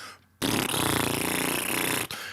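A voice imitates a fart with a loud, sustained buzzing blat lasting well over a second, close to the mic after a brief quieter lead-in.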